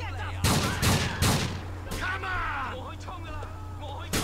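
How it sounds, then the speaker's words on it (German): Gunfire in Grand Theft Auto IV, with several loud, close shots in a quick cluster followed by more spaced cracks, while someone speaks German over game noise. "Hallo, der schießt immer noch auf uns."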